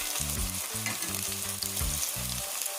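Plantain slices fry in a hot pan with a steady, close sizzle and crackle, punctuated by repeated stirring and scraping knocks from a utensil, with no voices.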